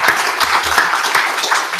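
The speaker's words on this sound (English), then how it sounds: "Join me in giving all of the panelists a round of applause for a terrific set of" A conference audience applauds the panelists at the close of a climate policy forum session, with dense, steady clapping filling the room throughout and no voices heard.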